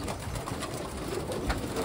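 Tumbler pigeons in a crowded loft coo and rustle steadily and close by, a continuous murmur of many birds with no talking.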